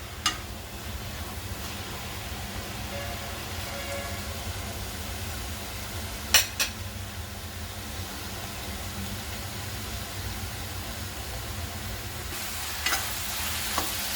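Onions fry in oil with a soft, steady sizzle, broken by a couple of brief stirring scrapes, fairly quiet and close with no voices.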